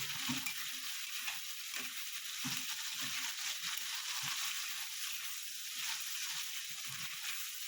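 Tomatoes and ginger cook in a hot pan with a steady, even sizzle, broken by soft scraping and tapping as the mixture is stirred now and then.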